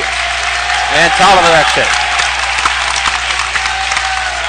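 Student crowd claps and cheers in a school gym during a Minnetonka vs Chaska boys' basketball section quarterfinal, steady applause under a commentator's voice.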